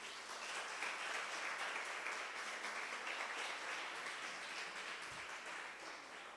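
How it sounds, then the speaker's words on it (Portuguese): A church congregation applauds for Jesus during a Portuguese-language sermon, steady distant clapping that fills the room evenly for several seconds. "Vamos aplaudir a Jesus?"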